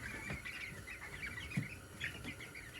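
Small chicks in a brooder cluck and peep steadily at close range, with soft overlapping calls and a few louder chirps, no talking.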